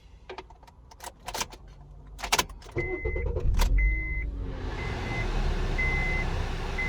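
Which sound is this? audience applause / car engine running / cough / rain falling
car engine running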